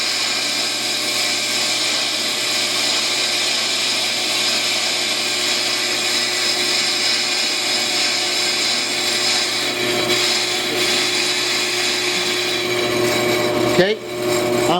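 An Ammco 4000 brake lathe machines a brake rotor, cutting past the pad contact area into the rust. The machining whine is steady and continuous, with a brief clunk near the end.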